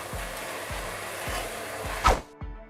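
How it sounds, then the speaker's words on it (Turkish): Onions sauté with bone marrow in a pan for a chickpea stew, giving a steady close sizzle with soft regular thumps from stirring and one sharper knock near the end. "soğanlarımı ilave ediyorum. Sempeleşene kadar kavuruyorum."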